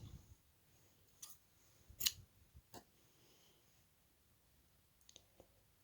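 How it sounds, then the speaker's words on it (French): Scissors cutting through crochet yarn for a watermelon coaster: a few quiet separate snips and clicks, the loudest near the middle and a couple more toward the end, close and faint against near silence. "On peut venir couper tous nos fils."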